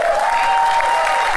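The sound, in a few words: audience applause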